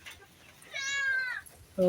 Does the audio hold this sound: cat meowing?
yes